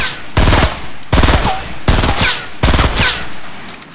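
Rapid bursts of automatic gunfire in the video game Fortnite, four loud close volleys of quick rattling shots separated by brief pauses, with no talking over them.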